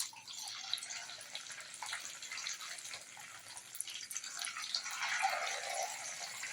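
Quail pieces deep frying in hot oil for quail 65, giving a steady, dense bubbling sizzle that swells slightly toward the end, close by with no talk.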